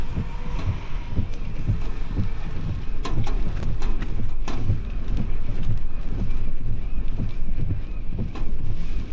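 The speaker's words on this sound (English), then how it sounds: "It's windy." Steady wind buffeting a microphone outdoors during supercell storm chasing, a continuous low rumble with gusty surges and a few sharp knocks throughout.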